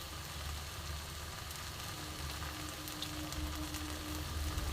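Mashed boiled potato and mince cook over raised heat in a pan for chicken cutlets, giving a faint, steady low sizzle with a dull rumble and no voices.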